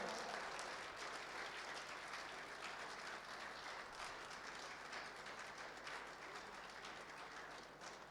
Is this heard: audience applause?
yes